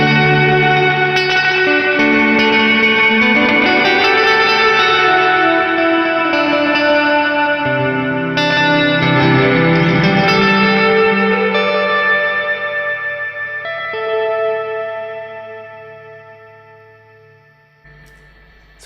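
Ambient electric guitar played through delay and reverb pedals, sustained chords and ringing notes washing into long echoing tails that overlap, then slowly fading toward the end.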